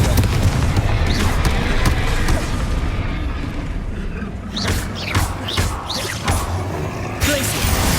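Confringo blasting spells explode in Hogwarts Legacy, a string of booming impacts and crackling bursts amid game effects, several sharp hits in the later seconds.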